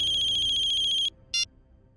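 A phone ringtone rings steadily with a bright, pulsing electronic tone for about a second, then stops, followed by one short repeat burst; nobody speaks.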